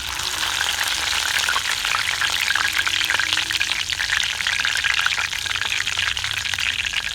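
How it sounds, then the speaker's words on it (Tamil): Washed curry leaves hit a hot cumin tempering in ghee for pepper pongal with the flame just turned off, giving a loud, continuous sizzle and fizz that stays dense and even throughout. "ஆஃப் பண்ணிவிட்டு நம்ம கழுவி வச்சுருக்கிற கருவேப்பிலையை இதில் ஆட் பண்ண போகிறோம்."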